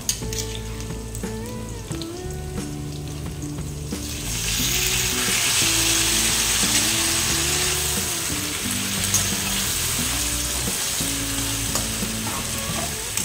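Taro stalks for laing land in a hot pan and start frying, a strong broadband sizzle swelling up after a few seconds and holding steady, with faint low clatter of the pan beneath.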